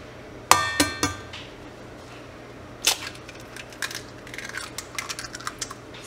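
An egg cracked on a kitchen surface, giving a sharp crack followed by a few quick clicks, then a quieter scattering of light taps and clinks.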